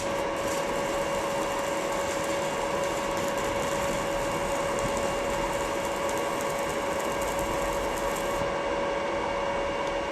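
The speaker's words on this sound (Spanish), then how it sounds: "Ahora lo que vamos a hacer es hacer un arco y ver cómo incrementa ese consumo." Inverter arc welding machine striking an arc, a steady crackling hiss with a constant high electronic whine running through, unbroken and fairly close.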